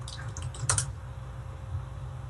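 A short, quick cluster of computer keyboard keystrokes clicks close by against a steady low background hum, then the room goes quiet apart from the hum.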